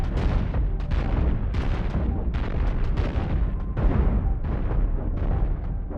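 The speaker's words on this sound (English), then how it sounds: "Large cannons against these small ships is just murderous." Large cannons fire at small ships in a video game, a rapid string of heavy booming blasts and bursts that overlap in a loud, continuous barrage lasting several seconds.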